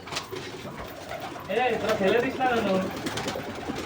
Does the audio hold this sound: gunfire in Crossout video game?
no